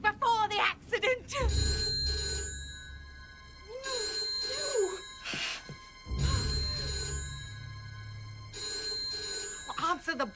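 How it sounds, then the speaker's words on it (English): A telephone bell rings in bursts, loud and close, alternating with pauses where people speak and a low rumble plays underneath. "Answer the bloody phone."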